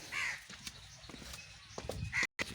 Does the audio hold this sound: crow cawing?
yes